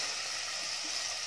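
Prawns sizzling in a pan as they sauté, a soft, even hiss with faint stirring, heard alone without talk.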